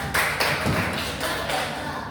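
A handful of hand claps at a classroom talk, soft and somewhat muffled, in short scattered bursts over low room noise.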